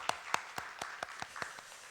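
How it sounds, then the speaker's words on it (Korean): A church congregation claps during a Sunday morning Easter worship service, seven or eight slow, distinct claps in a steady rhythm, fairly faint and somewhat distant. "하나님께 영광의 박수 올려드리겠습니다."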